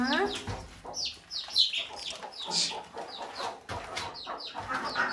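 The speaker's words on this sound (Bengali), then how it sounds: "তো এটা হচ্ছে কি জানো, মুরগিদের ফার্ম" Several chickens clucking and squawking close by on a village poultry farm, in quick irregular bursts, fairly quiet overall with a brief voice mixed in.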